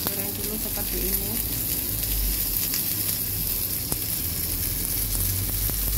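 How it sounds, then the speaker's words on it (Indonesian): Food fries in a pan over low heat in a home kitchen, a steady sizzle with occasional soft stirring clicks. It is close and continuous, and no one talks. "Nah, digoreng dulu seperti ini."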